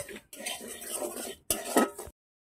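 Semolina dry-roasted in a wok: a spatula scrapes and stirs against the metal in two close, clattering bursts separated by a brief pause, ending in silence.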